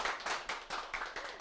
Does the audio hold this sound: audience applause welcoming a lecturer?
yes